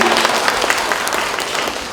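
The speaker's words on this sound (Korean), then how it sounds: "큰 박수로 함께 축하해주시죠." An audience at a library anniversary policy concert and award ceremony in Paju applauds a prize winner, a dense burst of clapping that starts loud and slowly fades.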